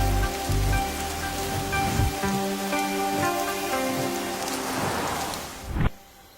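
Heavy rain pours down in a movie scene at a petrol stop, a dense, steady hiss and patter that fills the whole clip before cutting off abruptly near the end.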